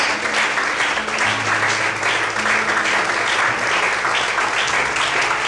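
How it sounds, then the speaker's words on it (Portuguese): A church congregation claps steadily and loudly, a continuous wash of applause with a faint sustained tone underneath, no pauses throughout. "Quantos podem aplaudir e exaltar ao Senhor nessa noite?"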